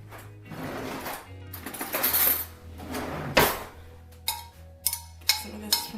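A spoon scrapes and clinks against a bowl while stirring a thick, sticky oat and date mixture, with irregular knocks and a low hum underneath, close by.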